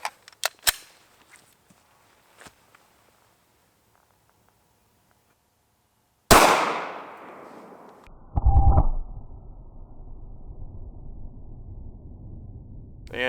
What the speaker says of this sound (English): So next, we're gonna shoot the 135 grain Federal Premium Hydra-Shok DEEP.